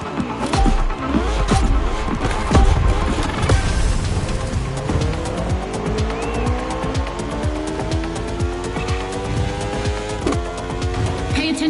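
Race car in a Red Bull time attack video game, engine roaring loud and continuous with rising and falling revs through gear changes, tires squealing and skidding around corners, no talk.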